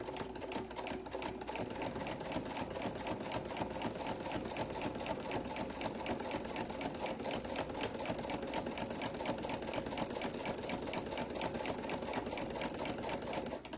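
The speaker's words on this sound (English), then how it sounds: "Go ahead and lower your needle and your presser foot. And like I said, we're going to stitch down to our 5-inch pin mark" A sewing machine stitching a quilted pot holder runs steadily without pause, its needle producing a fast, even mechanical chatter that is close and fairly quiet.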